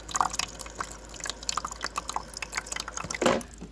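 Water trickling and dripping into an LG refrigerator's ice maker tray as it fills, faint irregular splashes and drips close by with a slightly louder splash near the end.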